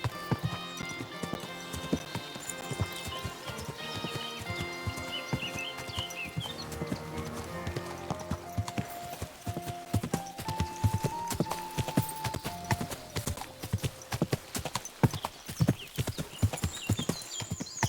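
Horse hooves clip-clop in a steady, quickening rhythm with a neigh, set under layered medieval music in Kingdom Come: Deliverance II.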